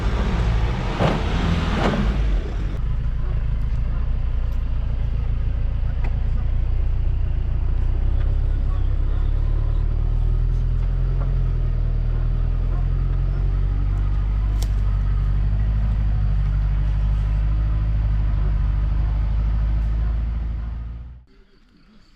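An expedition truck spins its wheels in mud, a heavy, continuous low engine rumble that holds steady for about twenty seconds before cutting off abruptly.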